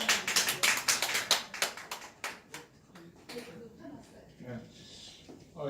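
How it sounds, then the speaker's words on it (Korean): An audience claps with sharp, fast hand claps that start loud and thin out after about three seconds, with faint talk and murmur under the fading applause. "네, 힘찬 박수로."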